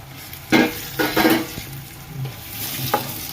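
Finely chopped desi tomatoes hit a hot pan of sizzling onion and garlic, with sharp scraping stirs of a spoon against the pan over a steady crackling fry.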